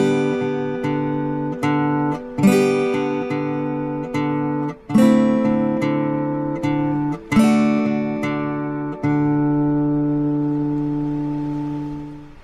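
Acoustic guitar in standard tuning plays the gentle intro to a song, a series of plucked and strummed chords with ringing sustain, the last chord left to decay alone.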